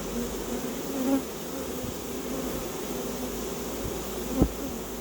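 Honeybees buzz steadily around an opened hive colony, a continuous dense hum with no voices, broken by one brief sharp knock near the end.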